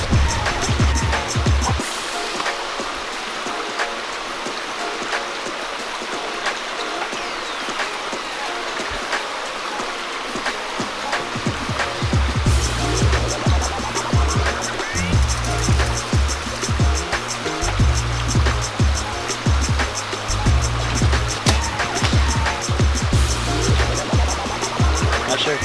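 A creek flows beside an archery course in the woods, a steady rushing babble of water that continues throughout, with voices talking over it at times.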